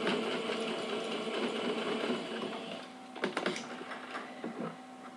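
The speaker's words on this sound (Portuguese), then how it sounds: "Tô costurando devagar porque aqui é bastante tecido, é bastante camada de tecido" A sewing machine stitches slowly through many thick layers of fabric, with a steady close mechanical whir that thins out into uneven clicks and thumps.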